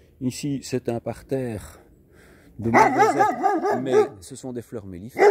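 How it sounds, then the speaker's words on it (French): A neighbour's dog barks and yelps in a house garden, mixed in with someone talking nearby. The barking rises loudest in the middle stretch. "Ouais, ça, c'est le chien du voisin."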